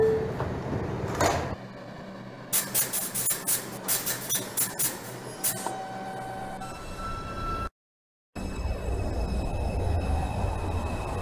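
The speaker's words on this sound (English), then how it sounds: "Stand clear of the closing doors" A New York subway 2 train in the OpenBVE train simulator game: a rhythmic series of squeaks and clunks as the doors close, followed by a brief silence, then a steady rumble of the train running.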